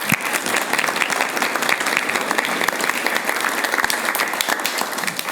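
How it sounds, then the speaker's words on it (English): Loud, dense applause from an audience at a lunchtime talk on AI, honoring the panelists. It is sustained and even for over five seconds, with sharp individual claps standing out near the listener. "give it a round of applause for our panelists"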